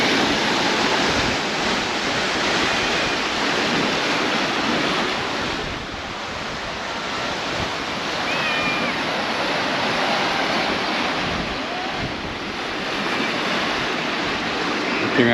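Strong wind gusts across the seaside at Paguera, Mallorca, a continuous loud roar with surf-like wash that swells and dips slightly throughout, no talking.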